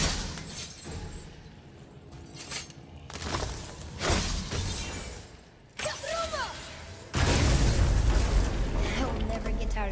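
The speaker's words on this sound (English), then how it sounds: "I'll never get tired of shattering things with this." In the God of War game, heavy strikes of the Leviathan Axe shatter objects in several loud crashing bursts with debris, separated by rumbling pauses, the last impact the biggest.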